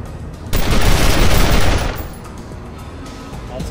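Gunfire in the Wasteland 2 game bursts out as a loud, rapid volley lasting about a second and a half, then fades into a lingering rumble with quieter shots afterward.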